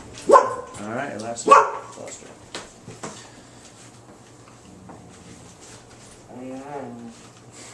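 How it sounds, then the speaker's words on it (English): A dog barks a couple of times close by, sharp loud barks near the start with a fainter yelp later, while people talk over a game session. "Any extra noise, that's my dog."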